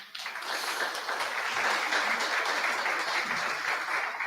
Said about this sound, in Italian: Quindi un applauso.